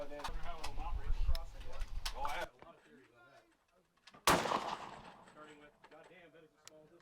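Someone talks, then after a pause a double-barrel shotgun fires one sharp, loud blast that rings and decays, and his voice comes back afterward.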